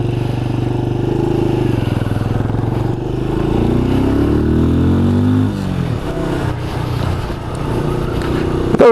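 A 2020 Benelli 400 Imperiale single-cylinder motorcycle climbing a steep hill, its engine droning loud and close with a rising pitch as it pulls, then dropping and shifting near the end.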